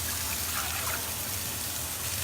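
Two cups of water poured for a beef broth, a steady splashing gush that runs evenly for the whole moment, fairly close and alone without any talking.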